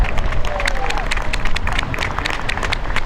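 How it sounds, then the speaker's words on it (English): A dockside crowd at a Volvo Ocean Race sailing event at Hong Kong's Kai Tak cruise terminal claps and cheers for a team arriving at the dock, dense steady applause with scattered shouts and murmuring. "we'd like to hear your round of applause and your cheers for Dee Kafari and her team on Turn the Tide"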